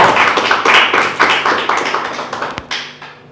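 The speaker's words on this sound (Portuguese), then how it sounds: "Pode aplaudir o Senhor" A church congregation claps along in a steady, quickening rhythm, loud and close, with bursts of sharp hand claps and no talking over it.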